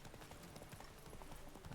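Hooves of the horse Roach clip-clop in a quick, even rhythm in The Witcher 3: Wild Hunt, soft and fairly faint over low game ambience.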